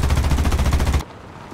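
Rapid machine gun fire from a vehicle weapon in the War Thunder video game, a fast continuous burst for about a second, loud and close, then cutting off abruptly to quieter background.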